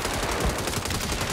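Rapid automatic machine gun fire in the video game Saints Row, dense continuous bursts of loud gunshots filling the whole stretch with no pauses.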